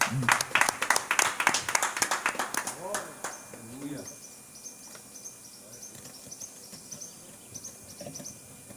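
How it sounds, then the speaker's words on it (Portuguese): A church congregation at a Portuguese-language service claps in quick, rhythmic bursts for about three seconds, mixed with voices. The clapping then stops, leaving quiet chirping and low voices. "Uma salva de palmas para o Senhor Jesus"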